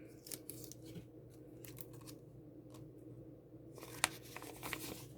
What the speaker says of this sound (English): Get out the tape and tape it, because it makes me crazy